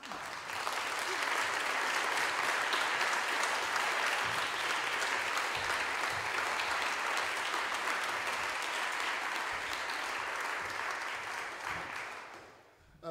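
Sustained audience applause welcoming a visiting law professor to a lecture, steady dense clapping from a large crowd that holds for about twelve seconds before fading out near the end.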